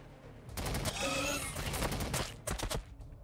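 Volleys of gunfire in the video game Warhammer 40K Battlesector, rapid crackling bursts heard at a moderate distance that trail off into a few separate sharp shots.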